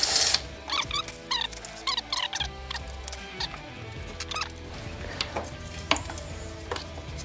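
A ratchet clicks while removing the fuel rail bolts on a Nissan 300ZX: quick runs of close, metallic clicks come in short bursts with pauses between them.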